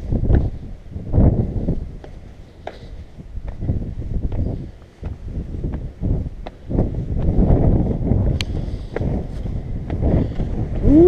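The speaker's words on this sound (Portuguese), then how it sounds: "Que vento gelado, velho." Cold wind blowing at the castle of Castrojeriz in Burgos, Castile and León: gusty rumbling buffets on the microphone across the whole stretch, with faint rustling.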